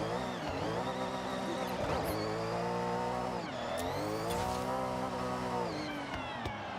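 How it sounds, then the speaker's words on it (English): A car engine revs hard and continuously while drifting in Forza Horizon, with rising and falling engine tones and gear changes plus tire squeal, loud and close throughout. "I'm also trying to drift now without using the handbrake so much"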